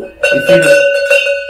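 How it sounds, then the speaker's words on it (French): Large clavelas herd bells about 12 to 15 cm tall, the mountain sound of a mid-herd animal, ringing with bright metallic clanks and sustained tones while someone speaks briefly over them. "le son de montagne avec des clavelas à peu près entre 12 et 15 cm de hauteur."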